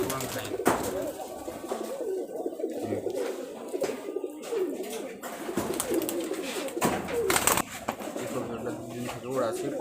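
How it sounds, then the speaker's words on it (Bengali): Rajshahi highflyer pigeons coo in low, throaty repeated calls, close and continuous, with a person's voice briefly mixed in. "উড়ান ফাইন মাদি কবুতর মাদি কবুতর"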